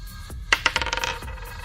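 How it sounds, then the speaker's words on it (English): Three 20-sided dice tumble onto a hard surface, a quick cluster of bright clattering clicks and bounces that rattle out and settle within about a second, close up and with no voices. "we're going to roll 3 20-sided dice"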